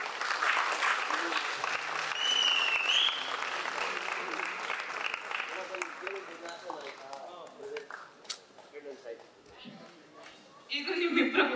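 Applause from the audience at a Kannada film critics awards ceremony, loud and sustained, with voices and crowd noise mixed in before the clapping thins out and swells again near the end.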